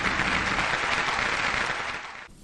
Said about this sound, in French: c'est avec des acclamations qu'ils lui disent adieu